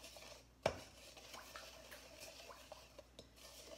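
Oils and salt being stirred together in a bowl for a homemade body scrub: one sharp clink, then soft, irregular gritty scraping and light taps, quiet and close.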